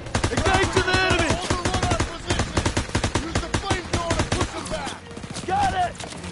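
Rapid bursts of video-game gunfire in Call of Duty WWII crackle continuously beneath loud shouting voices, with sharp shots repeating throughout.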